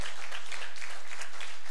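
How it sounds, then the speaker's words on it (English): A church congregation claps for the Lord during a crusade service, producing a loud, continuous roar of hand clapping that stays dense and unbroken throughout. "Give the Lord a great big hand clap for his word today."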